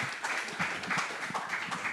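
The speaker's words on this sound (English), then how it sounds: "A round of applause for them," An audience at a Bitcoin conference stage in Cape Town gives a brief round of applause: two seconds of uneven, pulsing clapping, moderately loud, with no talking over it.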